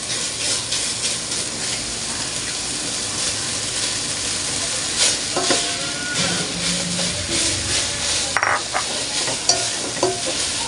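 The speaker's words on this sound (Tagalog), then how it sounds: "Tapos, halu-haluin lang po ito." Shredded chicken and wood ear mushrooms sizzle in a pan while being stirred, a continuous close frying hiss with scattered scraping and clinking of the spoon against the pan, no voices.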